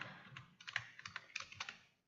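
Rapid keystrokes on a computer keyboard, about a dozen soft clicks in quick irregular bursts, close and fairly quiet with no voices.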